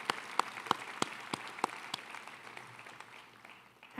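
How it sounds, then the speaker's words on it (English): Scattered applause at a high school commencement ceremony: a handful of loud, distinct claps ring out at a steady rhythm over a soft bed of crowd clapping that gradually thins and fades. "So can we just give one more really resounding applause?"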